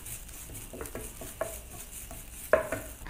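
Grated coconut stir-fried in a pan until brown, with soft scraping stirs and a faint sizzle, a few sharper clinks of the spoon against the pan standing out.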